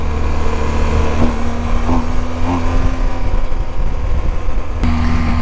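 A 2022 BMW R1250GS motorcycle on the move gives a steady, loud engine drone mixed with wind rush, with a brief sharp knock near the end and no talk.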